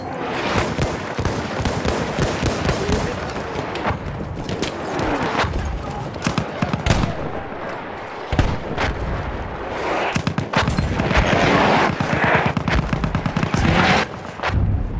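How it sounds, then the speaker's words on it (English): An enemy artillery barrage in a video game sounds as dense, continuous gunfire and booming blasts. Sharp reports overlap with rapid bursts for the whole stretch, loud and close, with no talking. "Wait for the enemy artillery barrage to stop firing."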